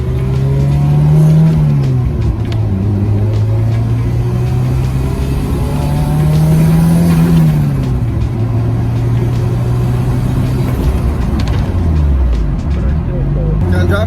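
An Acura Integra with a stiff stage 3 clutch drives along, its engine droning steadily and rising and falling in pitch through gear changes, loud and close throughout.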